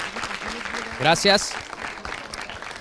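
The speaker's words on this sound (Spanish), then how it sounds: "Un aplauso para Guava, por favor" A brief burst of audience applause in a Mexican TV studio, fairly faint and quickly fading, with a voice speaking over it at the start and a louder spoken word in the middle.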